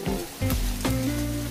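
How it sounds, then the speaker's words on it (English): An egg fries in yellow rice on a home hibachi griddle, giving a loud, steady close-up sizzle with crackling and occasional scrapes of a spatula. "that egg be frying hard. It be fried nice and hard in that rice"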